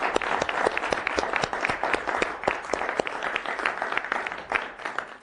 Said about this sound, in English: So I'm just asking if the members who have reviewed today would join me in applauding